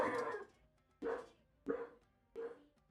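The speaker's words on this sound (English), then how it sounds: "He's learned now to bark." A dog barks four times in a steady, evenly spaced series, each bark loud, close and clear against a quiet room with no talk.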